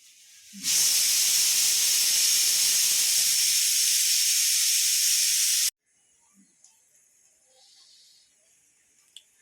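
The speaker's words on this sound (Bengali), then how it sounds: "প্রেশার কুকারে বসানো আছে" A pressure cooker cooking rice lets out a loud, sustained steam hiss for about five seconds, then cuts off abruptly, leaving quiet kitchen noises.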